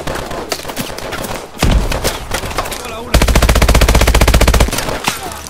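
Loud rapid gunfire from the Call of Duty Advanced Warfare campaign on PS4: scattered shots and short bursts, then a sustained automatic burst with a heavy low thump, filling the whole stretch with no speech.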